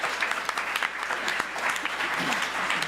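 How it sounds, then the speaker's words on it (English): An audience applauds after a children's mini musical performance, a steady wash of many hands clapping at moderate volume for about three seconds, with no clear voices over it. "Let's give a big round of applause for our friends here."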